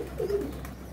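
Pigeons give a soft, low cooing call close by, one short phrase heard over a steady background hum.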